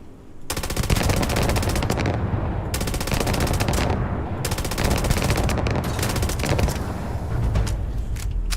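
Rapid automatic gunfire in a Starfield deathmatch mod, loud sustained bursts in quick succession with brief gaps between them, filling the whole stretch without any talk.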